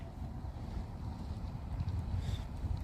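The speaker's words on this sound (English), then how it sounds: "The wind is blowing towards the drone right now." Strong gusting wind roars over a flying drone outdoors above a marshy nature center, a steady low rumbling buffet that swells slightly toward the end, with no voices.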